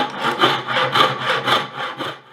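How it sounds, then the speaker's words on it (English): A bow saw cuts through a dense oak barrel head in a barrel workshop, making about five close, rhythmic back-and-forth rasping strokes that run steadily without pause. "The sound of the saw mixing with falling sawdust creates a signature rhythm of craft"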